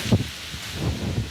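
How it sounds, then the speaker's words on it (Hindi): Strong outdoor wind, gusty enough to blow dust into the eyes, buffets the microphone with a loud, low, rumbling roar and a soft rustle, with no voices. "देखो कितनी तेज़ हवा चल रही है"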